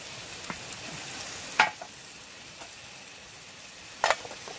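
Beef stroganoff with chanterelle mushrooms sizzles steadily in a pan over a Bushbox XL stove outdoors, with two sharp stirring scrapes rising above the constant frying hiss.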